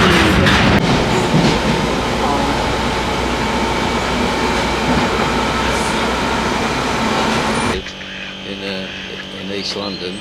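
A London Underground tube train ride, with a loud, steady rumble of wheels and carriage noise up close that drops off sharply near the end, while people talk over it.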